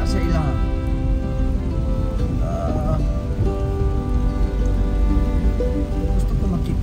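Rain falls steadily on a rainy day in Chuuk, a continuous close patter on surfaces, while voices and other sounds carry on over it.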